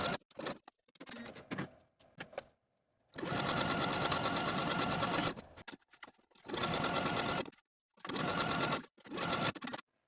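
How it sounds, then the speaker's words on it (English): A sewing machine zigzag-stitches yarn onto fabric, running in several close, loud bursts of rapid mechanical whirring separated by short pauses, with no one talking. "as I zigzag all this yarn in place"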